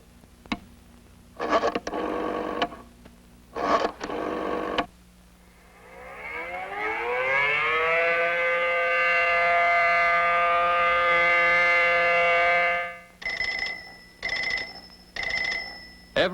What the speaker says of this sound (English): sirens and bell and lights throughout the community are activated simultaneously